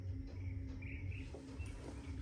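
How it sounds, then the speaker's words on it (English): Faint birds chirp in the distance, a few short tweets over a low, constant background hum. "since we hear the birds"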